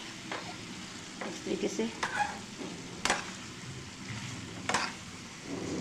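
Chicken chow mein with chilli ketchup stirred and tossed in a hot pan, steady sizzling under scraping strokes of a spoon, with a few louder clanks against the metal; a voice speaks briefly.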